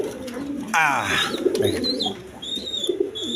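King pigeons at a farm coo in low, repeated throaty calls, mixed with other birds chirping and someone talking briefly nearby.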